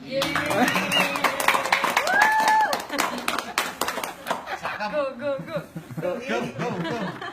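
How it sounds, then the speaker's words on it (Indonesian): An audience claps in a loose burst, with laughter and chuckling mixed in and a voice speaking over the clapping. "Tepuk tangan dong."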